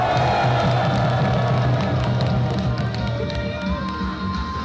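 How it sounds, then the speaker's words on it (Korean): A crowd at a ceremony declaring the permanent shutdown of the Hanbit Unit 1 nuclear plant in Yeonggwang claps and cheers, dense and loud at first, then gradually thinning, with scattered whoops and murmuring voices underneath. "다 함께 큰 감사와 격려의 박수 부탁드리겠습니다."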